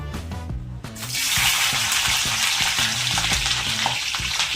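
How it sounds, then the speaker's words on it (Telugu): Green chillies dropped into hot groundnut oil, bursting into a loud, dense frying crackle after a brief clatter, sizzling steadily and close with no voices. "ఆయిల్ వేడైందండి పచ్చిమిర్చి చేద్దాం"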